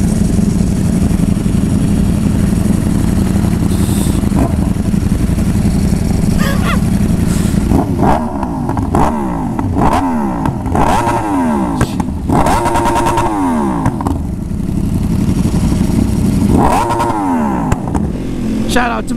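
Superbike motorcycles on a New York City night street idle and rev, with engine rumble rising and falling in repeated throttle blips over steady low traffic noise, while people talk nearby.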